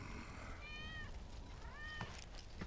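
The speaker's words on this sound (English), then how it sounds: "That's Wedge's cat." A cat meows twice in Final Fantasy VII Remake, clear rising-and-falling calls separated by a short pause, faint over quiet game ambience with a couple of soft clicks near the end.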